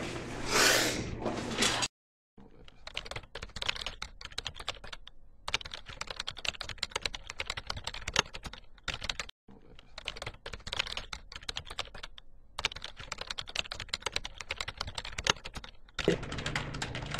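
Rapid, continuous clatter of fingers typing fast on a computer keyboard, close and steady, broken by a few brief pauses, with a short breathy sound at the start and end.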